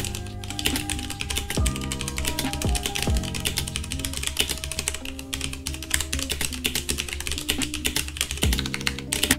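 Rapid, continuous clacking from typing on an ASUS mechanical keyboard, with dense crisp key strikes sounding close and steady throughout.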